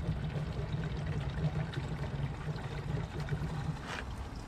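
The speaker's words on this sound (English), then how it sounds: "let's put some gas in the gas tank just to see if it'll run on its own" Gasoline pours into the dry gas tank of a Tecumseh 5 HP engine on a Troy-Bilt lawn vacuum chipper, a steady faint trickle running for several seconds with a low hum beneath.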